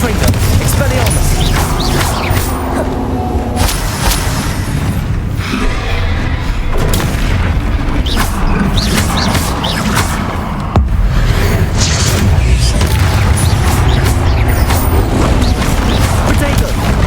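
Spell impacts in the Hogwarts Legacy video game, a run of heavy booms and thuds bursting repeatedly over a continuous game backdrop, with a voice calling out spell names.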